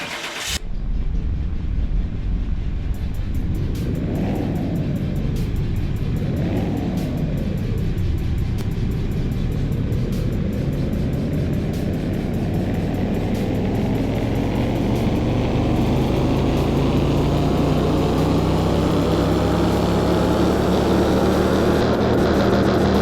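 A simulated car engine in Car Mechanic Simulator 21 runs on a dyno, giving a loud, steady roar that revs up and down twice and then climbs in one long sustained pull, with no talk over it.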